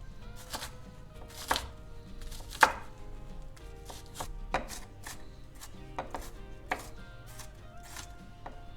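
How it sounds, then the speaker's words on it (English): A knife chops onion into small pieces on a cutting board, giving sharp, distinct taps at an uneven, unhurried pace, about a dozen close thuds spread across the clip over quiet room tone. "we chop a bit of the onion in small pieces"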